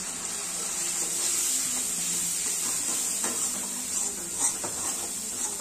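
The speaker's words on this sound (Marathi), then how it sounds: "हे मसाले टाकून घेऊया, मसाले पण छान तेलात तळू देऊया।" Spices fry in oil in a pan over low heat while a tomato, onion, garlic and ginger paste cooks for a soybean bhaji, giving a soft, steady sizzle with a few light stirring clicks close by.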